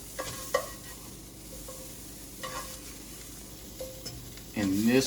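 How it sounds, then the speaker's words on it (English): Sautéed vegetables and broccoli being stir-fried together for a teriyaki peanut tofu meal, with a soft sizzle and a few utensil scrapes and taps in the pan, close up, ending in a louder burst of noise. "We're gonna take the broccoli out, put the broccoli in, and then we're gonna mix this up."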